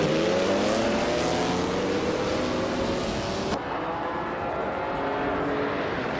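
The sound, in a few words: racing cars accelerating, classic 1956 Lancia D50, video game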